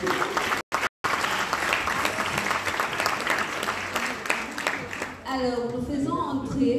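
An audience applauds an outfit at a Cameroonian chieftaincy parade, dense sustained clapping from a sizable crowd for several seconds before a voice begins talking over the end.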